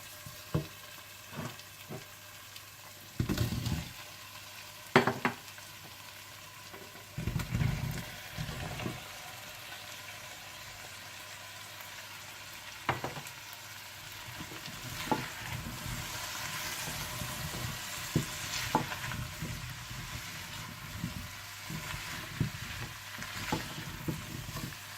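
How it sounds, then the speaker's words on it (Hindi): Potato and cauliflower pieces frying in tomato masala for aloo gobi, a low steady sizzle with intermittent spoon-stirring knocks and scrapes, close but fairly quiet, no talking. "आप इसमें आलू और गोभी डालकर थोड़ा सा भून दें"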